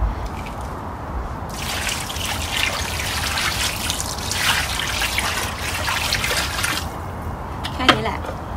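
Water is poured steadily onto the soil around a newly planted fig tree, making a continuous close trickle and splash for several seconds before it tapers off.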